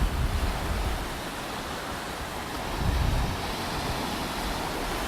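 Ocean surf and wind on a Sunday morning beach in North Naples, Florida form a constant broad roar, with a gentle swell of breaking waves near the middle and wind buffeting the microphone throughout.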